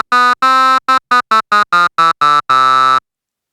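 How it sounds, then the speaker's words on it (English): Arturia MicroFreak synthesizer running a simple step sequence of saw-wave notes in A harmonic minor, eleven bright buzzy notes in an uneven rhythm with a longer final note, loud and alone with no talking. "I'm going to program a really simple sequence using the sequencer of the MicroFreak"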